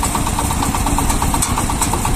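A tractor engine pulling a small Ukrainian mini pumpkin combine runs at raised revs, giving a steady, loud, close drone with a regular low throb and no voices.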